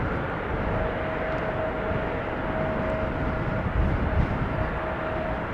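An SAS CRJ jet taxiing at Amsterdam Schiphol airport makes a steady, broadband engine roar with a faint constant whine, continuous and moderately distant, blended with windy outdoor noise and no voices.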